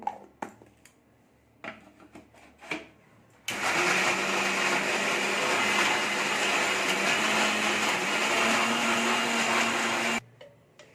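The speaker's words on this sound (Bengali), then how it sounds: "এই মশলার সাথে মগজ দানাগুলোও দিয়ে দিচ্ছি আর এখানে পোস্তটাও দিয়ে দিচ্ছি দিয়ে একসঙ্গে সবগুলো বেটে নেবো" An electric grinder loudly whirs through fried spices, melon seeds and poppy seeds for about seven seconds, starting abruptly and cutting off, with a few clinks and small taps before it starts.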